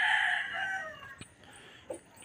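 An Allen Roundhead gamefowl rooster crows once, loud and close, the call trailing off, followed by a couple of faint clucks.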